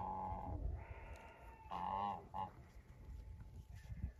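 Geese honking outdoors in heavy snowfall, several loud nasal calls in quick succession near the start and middle, then softer scattered honks against a quiet background.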